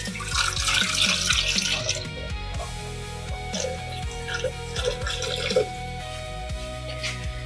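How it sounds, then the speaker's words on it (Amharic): Lukewarm water poured from a tap or jug into a mixing bowl while preparing Ethiopian flaxseed fitfit, a close, steady splashing stream that fades into softer trickles and drips toward the end. "አሁን የሚበቃንን ያክል ውሃ እንጨምራለን።"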